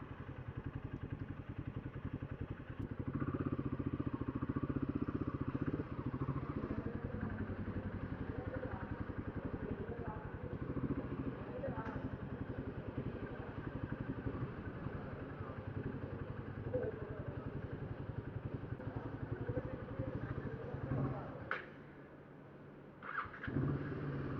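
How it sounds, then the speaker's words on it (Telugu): A Himalayan motorcycle ridden at around 100 km/h gives a steady, loud, close engine drone blended with wind roar for most of the ride, easing briefly near the end before picking up again. "బైక్ కొన్న కానీ ఇదే ఫస్ట్ టైం నేను 100 స్పీడ్ వెళ్ళడం"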